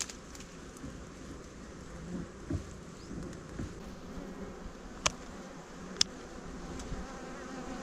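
Hornets, specifically greater banded hornets, buzz steadily around their nest nearby, with a constant insect drone broken by a few sharp clicks and ticks.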